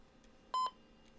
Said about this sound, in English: It'll even do a post beep.